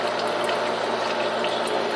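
A simple stream of water pours steadily down the center of a funnel on a DIY aquarium doser, a constant close splashing trickle with no voices.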